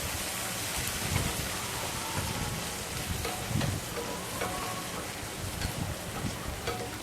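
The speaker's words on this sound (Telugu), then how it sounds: "దోసకాయ గింజలు కూడా వేసి 1 నిమిషం ఫ్రై చేసుకుని" Cucumber seeds fry in a pan for a cucumber and brinjal chutney, giving a steady, dense crackling sizzle throughout with occasional louder pops.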